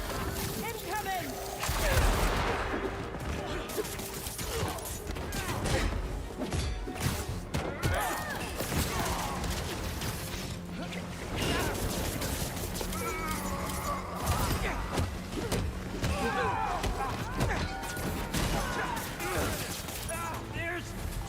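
Enemies firing a barrage in Spider-Man 2, dense continuous volleys of shots and crashes amid a busy mix of combat effects and voices.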